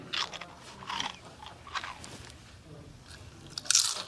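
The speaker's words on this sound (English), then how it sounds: "There's a crunching sound coming from under your bed." Crunching from under a bed that sounds like chewing, several irregular crisp bites and crunches spaced a second or so apart, fairly quiet and close, with no voices.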